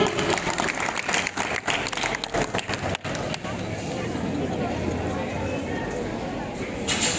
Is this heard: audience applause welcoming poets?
yes